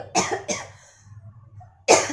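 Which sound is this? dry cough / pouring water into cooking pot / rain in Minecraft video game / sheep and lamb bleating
dry cough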